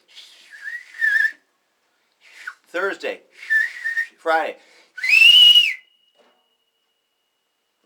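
Someone whistles a short tune in bright, clear phrases broken by pauses, with a few spoken words slipped between the notes and a long held note near the end.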